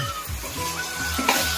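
A spoon stirs chopped cauliflower, carrot, garlic and ginger with vinegar for a mixed vegetable pickle, giving a brief, close, wet, squelching swirl with no one talking.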